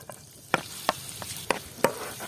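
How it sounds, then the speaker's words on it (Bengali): Chopped onion and green chili fry in soybean oil under a soft, continuous sizzle. Four or five distinct scraping knocks of a spatula stirring the pan come at a fairly regular pace, close and clear. "পেঁয়াজ আর মরিচ ভাজা হয়ে গেছে"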